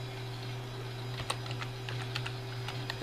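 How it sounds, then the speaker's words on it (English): Keys clatter on a computer keyboard as a username is typed at a Linux login on a Gateway G6-350 PC, light scattered taps over a steady machine hum. "So we'll type in our username"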